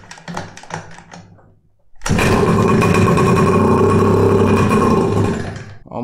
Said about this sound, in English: let's try starting it. Let's give it a little bit of throttle